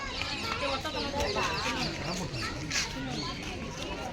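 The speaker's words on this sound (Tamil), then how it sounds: "வெள்ளை நிற கோழி பாருங்க எப்படி இருக்கு." Chickens cluck over and over at close range at a zoo in Chennai, a busy flock chattering while people talk nearby.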